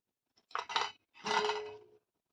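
Fried kala gulab jamun, khoya dumplings, being dropped into sugar syrup in a pan, giving two short bursts of clinking and sloshing, close and moderately quiet against silence.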